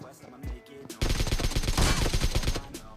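Rapid M4 rifle gunfire sprays in an online shooter game, a dense burst of close, loud automatic shots lasting about two seconds after a quieter moment with a voice.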